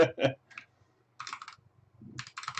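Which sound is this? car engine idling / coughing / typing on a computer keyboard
typing on a computer keyboard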